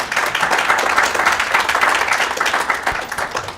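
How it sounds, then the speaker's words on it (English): Audience applause for panelists at a healthcare innovation summit, a dense steady wash of many hands clapping throughout, loud and continuous without talk. "Please give them a round of applause."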